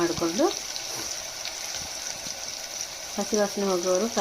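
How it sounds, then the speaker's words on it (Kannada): Onions frying in oil with mustard seeds and cumin, a continuous soft sizzle close by, while a person speaks over it at the start and end. "ನೋಡಿ, ನಾನು ಫ್ರೈ ಮಾಡ್ಕೊತಾ ಇದ್ದೀನಿ"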